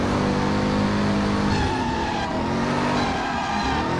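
A car racing through the streets in the PC game Driver San Francisco, its engine roaring steadily and loud throughout as the tires squeal.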